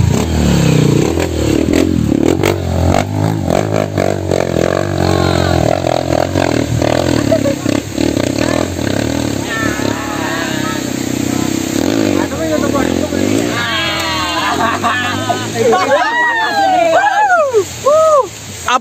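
A supermoto motorcycle revs hard while climbing a hill, its engine rising and falling in loud bursts close by, with people talking over it throughout.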